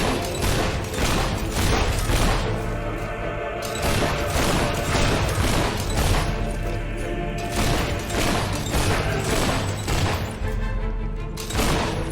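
Gunfire at a shooting gallery in Fable 3, the video game: a dense, loud, steady run of rapid shots and mechanical clatter with little talk.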